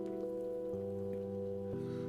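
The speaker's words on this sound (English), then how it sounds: "There's nothing quite like the soothing sound of rain falling on a window." Rain falling against a window in the game Kathy Rain, a steady, even patter throughout, layered with soft sustained musical tones and no speech.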